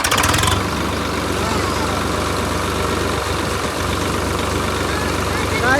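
A tractor engine runs steadily at close range, with a loud burst in the first half-second and then an even, continuous drone. People talk nearby over it.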